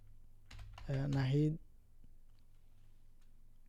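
A name being typed on a computer keyboard: a few quick, light key clicks, close and faint, partly under a short spoken word, then quiet.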